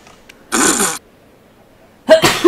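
Two sharp, loud sneeze-like bursts from a person, separated by a second of near silence.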